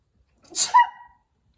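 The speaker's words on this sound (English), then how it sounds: "hold on, I'm about to sneeze." A single sharp sneeze bursts out close by, brief and loud, followed by silence.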